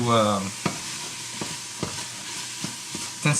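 Garlic fries in a pan for pasta sauce, a steady loud sizzle broken every half second or so by short scraping stirs, ending in a louder clatter, with no talk.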